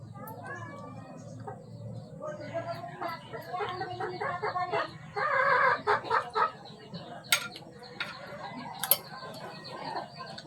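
A hen clucks repeatedly in short bursts, close by, with a few louder squawks, over a low background hum.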